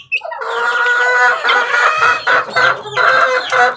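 Young chicks fed mashed banana and rice cheep loudly and close by, a dense run of overlapping high-pitched peeps with a few lower clucking notes mixed in.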